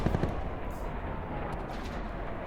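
Sustained rapid gunfire from Call of Duty Black Ops 4 hardcore team deathmatch, a dense loud rattle of automatic shots filling the whole stretch with no voice over it.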